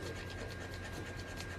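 Steady scratchy rubbing against paper, a continuous dry rasp with a faint rhythmic back-and-forth, close by and fairly quiet.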